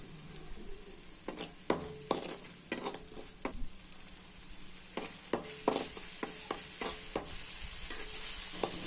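Noodles with tomato sauce stirred in a hot pan for quick egg noodles, a steady high sizzle with a series of quick spatula scrapes and taps, close and clear, with no talking.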